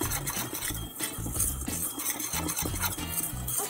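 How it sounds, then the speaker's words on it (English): Baking powder and salt whisked together in a bowl for brownies, a quiet, close run of quick rhythmic scraping and tapping strokes against the bowl. "we're just gonna whisk that together to combine them"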